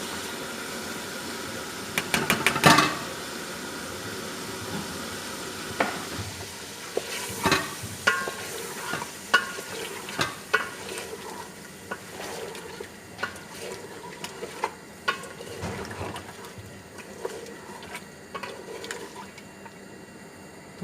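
Chicken frying in a pan with green chillies, stirred now and then: a soft continuous sizzle broken by scraping, clattering stirs, louder near the start and fading to scattered clinks.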